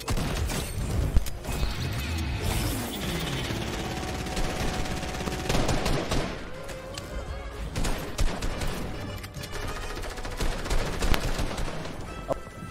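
Sustained rapid gunfire from the player's gun in Fortnite, dense bursts of shots mixed with crashes and game effects, loud and continuous throughout.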